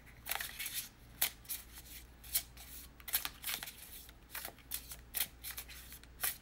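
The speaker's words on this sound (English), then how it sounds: "I'm going to pull a card for Robert." Tarot cards are shuffled by hand in quick, crisp riffling bursts, a steady rhythm of close, papery snaps with brief pauses between, with no talk over them.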